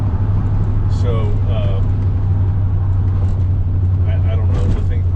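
A 1966 Corvette with a 327 engine and two-speed Powerglide automatic drones steadily from inside the car on a test drive, a constant low hum with road noise and a voice talking over it.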